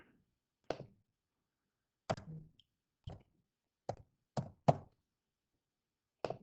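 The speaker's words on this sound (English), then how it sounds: "Pressing enter to go down, so they're all on a different line, and then enter." Keys pressed on a laptop keyboard, about seven separate sharp taps spaced irregularly over several seconds, close and clear against near silence.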